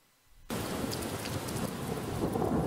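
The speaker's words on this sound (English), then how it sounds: "Storm is coming." Thunderstorm with heavy rain in a psychological horror indie game, a sudden loud burst of rumbling thunder and dense downpour kicking in after a near-silent start and building steadily, with no voices.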